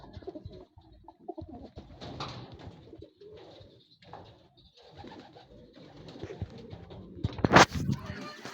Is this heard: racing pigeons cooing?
yes